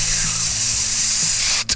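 A spray can hisses loudly and continuously at close range for under two seconds, cutting off abruptly into a short final burst.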